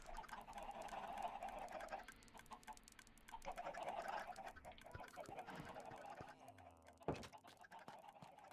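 Chickens clucking in Minecraft, a crowded cluster of clucks and squawks layered over each other in a steady busy stream, with a sharp knock near the end.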